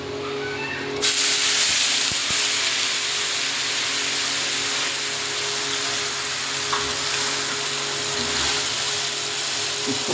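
Onion and tomato paste fries in hot oil with bay leaves and dried red chili, giving a loud, steady sizzle and hiss that runs unbroken throughout.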